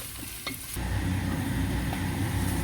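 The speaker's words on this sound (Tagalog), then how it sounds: "Gisa-gisa hanggang sa mag brown ng konti." Meat sautéing in a pan until lightly browned, a steady close sizzle that swells after a soft clatter and continues alone.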